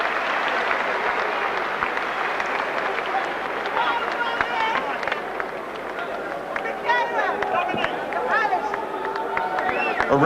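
A boxing arena crowd applauds after a WBO featherweight title fight between Naseem Hamed and Jose Badillo, a constant roar of clapping and cheering under a ring announcer's voice and whistles.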